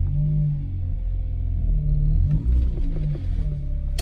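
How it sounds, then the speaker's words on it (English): A Mazda RX-8 with a freshly swapped transmission and clutch idles in first gear with a deep, steady low rumble, then strains slightly with a rough surge near the end as it tries to creep forward, with no speech. "just to go ahead and test out the new trans, I'm gonna put in first and let it inch forward a little"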